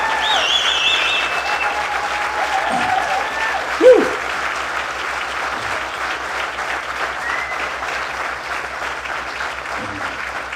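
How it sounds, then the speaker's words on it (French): A crowd at a French-speaking community gathering claps in a soft, even wash of applause for about ten seconds, with a few louder isolated claps and faint voices mixed underneath. "belle main d'applaudissements"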